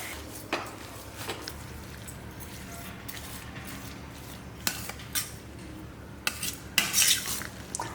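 Sliced raw mango being mixed with a large amount of salt in a bowl for instant pickle, with soft rustling and scattered clinks and scrapes of a utensil against the dish, quiet and close.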